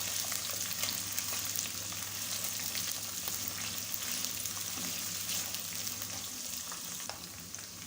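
Chicken fries in a pot with a continuous crackling sizzle, close and fairly even, with a few brief stirring knocks and no voices.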